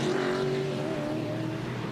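V8 touring race cars from the 2000 Shell Championship Series roar steadily past at Oran Park, a continuous loud engine drone with a falling whine as they sweep by.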